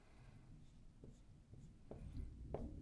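An equation is written down by hand: soft, faint scratching and tapping strokes of a pen or marker, close and quiet, with no talking.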